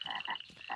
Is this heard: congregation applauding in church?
no